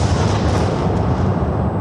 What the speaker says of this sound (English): the bomb's detonation released the energy equivalent to 21 kilotons of TNT